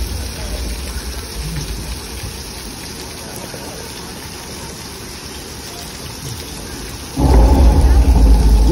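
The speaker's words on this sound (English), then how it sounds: "Well, because we got some rain." Steady rain hisses throughout the flood scene on the Universal Studios tram tour, then a loud, deep rumble of thunder swells up near the end and keeps rolling.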